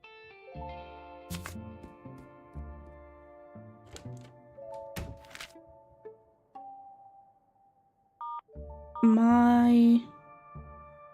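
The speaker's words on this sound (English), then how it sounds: "Have you tried dialing your phone?" Electronic telephone dialing tones in a video game: a run of short beeping keypad tones over background game music, then a loud sustained ringing tone near the end, with no voices.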